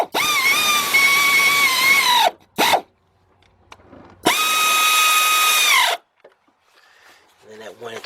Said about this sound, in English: So I'm used to an air ratchet, so I'm gonna go ahead and start tightening these up.